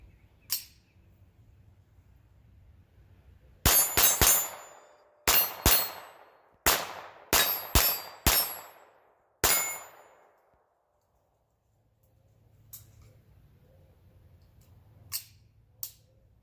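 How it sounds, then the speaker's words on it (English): A Browning Buck Mark .22LR pistol firing old CCI ammunition, with about ten sharp, close, loud reports in quick uneven succession, some closely paired, then a lull and a few fainter clicks. "Shooting some old CCI ammo."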